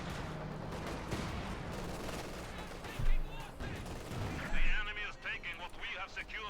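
Artillery and anti-tank gun fire in the World War II strategy game Company of Heroes 2, a dense barrage of booms and blasts with louder impacts scattered throughout, mixed under ongoing game audio.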